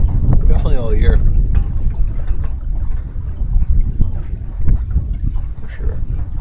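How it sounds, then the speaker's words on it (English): Wind blowing across a sailboat on the Chesapeake Bay, a loud steady rushing buffet against the microphone with water sloshing underneath, while people talk over it. "This is probably the best wind we've had all year"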